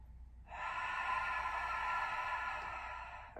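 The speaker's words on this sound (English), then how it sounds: "Breathe in." A deep, audible breath drawn in through the nose during a right-side rib cage and intercostal stretch, one long steady inhale lasting about three seconds, close and quiet.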